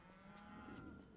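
Cows mooing in the video game Wasteland 2, a single drawn-out low moo over a steady background bed, fairly faint and with no talking.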